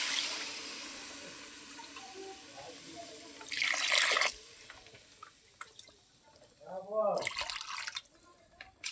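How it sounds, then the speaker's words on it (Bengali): Water is poured into a simmering potato curry with dried lentil dumplings, in two short splashing bursts close by, while someone talks between them. "আমি জল দিয়ে দেবো"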